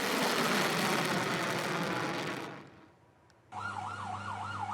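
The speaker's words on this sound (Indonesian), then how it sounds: "Suara alarm terus berbunyi hingga petugas damkar tiba di lokasi." Loud roaring noise from a missile strike in Holon cuts off, then after a short lull a warbling alarm rises and falls steadily, clear and fairly close.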